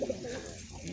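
Pigeons cooing close by, a soft, steady murmur of calls running through the short stretch with a brief brighter note near the start.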